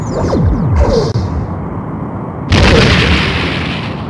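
Starship weapons fire in the Star Trek: A Final Unity video game, with sweeping energy-beam zaps followed by a sudden loud booming blast at about two and a half seconds that rumbles on with echo.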